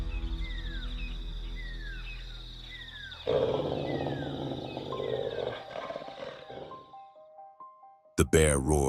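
A bear facing a pack of wolves in a forest gives a loud, deep roar that swells and rumbles for several seconds. It comes after a stretch of thin, wavering high cries and fades before a sharp closing burst.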